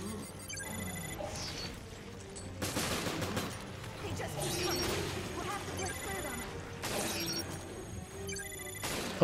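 Bursts of gunfire blast at enemies in the survival horror game Resident Evil Revelations, with repeated loud volleys and crashes mixed with game music, while a voice talks over the action.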